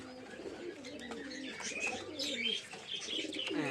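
Giribaz pigeons coo and chirp in a small collection, with overlapping soft calls and some shuffling nearby, fairly quiet and close, no voices.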